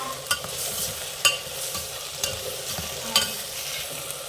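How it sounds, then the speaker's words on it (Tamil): A spoon stirs thick potato masala gravy with ground spices in a cooking pan, a steady close scraping and sizzling with periodic sharper knocks against the pan, loud and continuous with no talking. "இப்போ அதையும் கிளறிக்கலாம்."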